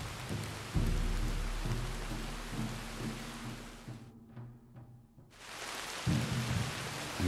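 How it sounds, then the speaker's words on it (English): Steady heavy rain hisses across the surroundings in Red Dead Redemption 2, with low rumbling underneath, breaking off briefly into near silence with a few scattered drips before the downpour resumes. "It's still raining?"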